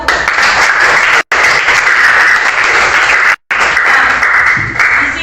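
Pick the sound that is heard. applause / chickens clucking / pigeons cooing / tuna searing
applause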